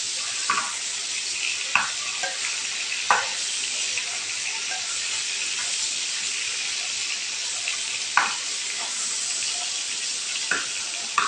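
Hilsa fish frying lightly in hot oil sizzle steadily up close, with a hissing crackle broken by occasional sharp taps and turns of a spatula.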